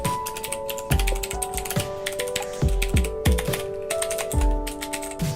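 Clacky keystrokes on a Razer BlackWidow Ultimate mechanical keyboard, a close, steady run of uneven typing with sharp individual clicks and occasional heavier thumps, with no voices over it.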